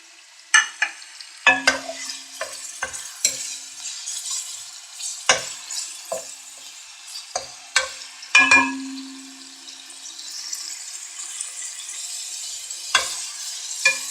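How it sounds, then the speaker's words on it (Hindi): Mutton frying in a pot while being stirred, with a soft sizzle beneath repeated sharp scrapes and clinks of a metal spoon against the pot, close and irregular. "तकरीबन गोश्त 2 से 3 मिनट या 4 मिनट के अंदर फ्राई हो जाता है।"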